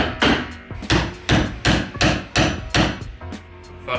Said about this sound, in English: I'm going to put the sonic tool through the hole, and basically just going to tap it down